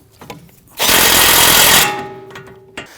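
A power tool snugs down the lower ball joint nut on a 2009-2017 Volvo XC60, a loud rattling burst of about one second that trails off into quieter clicks and shop noise.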